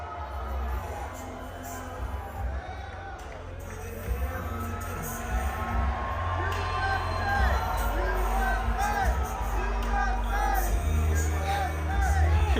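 Large crowd at SneakerCon, a sneaker convention, creating a steady, dense hubbub of chatter with scattered whoops and shouts rising throughout, loud and close, without a distinct burst of cheering.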